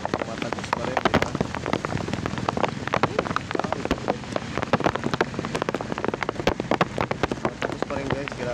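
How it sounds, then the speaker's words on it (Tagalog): A heavy downpour pelts down on motorcycle riders, with dense, loud drumming and crackling drops continuing without pause, and a voice faintly mixed in. "Sobrang lakas na ulan."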